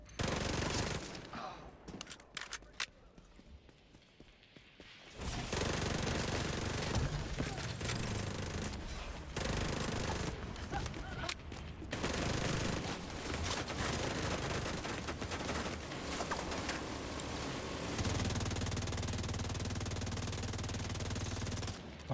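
Sustained video game gunfire pours into a minigun-wielding enemy in The Division 2's Brooklyn area, dense rapid shots and automatic bursts running loud for most of the stretch after a quieter opening, with occasional talk.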